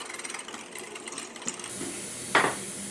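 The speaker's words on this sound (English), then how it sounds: "get the pieces of meat down inside the grinder good" A meat grinder churns pieces of meat into a stainless bowl, giving a steady, rhythmic mechanical whirring with a brief louder scrape near the end, moderately close.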